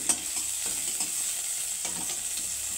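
Grated ginger and chopped green chilli stirred and fried in a pan with a pinch of asafoetida, a continuous close sizzle with a few soft scraping strokes of the spoon and no voices.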